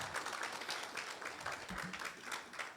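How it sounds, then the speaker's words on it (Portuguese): An audience at a church couples' gathering claps in a quiet, dense patter for a few seconds, faint and fairly distant, with no voices over it. "Salve de palmas para elas."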